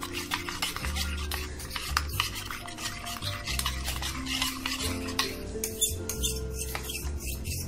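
A spoon stirs milk into a wheat flour mixture for halwa, giving steady scraping and swishing strokes against the vessel with a continuous, close rhythm and no talking.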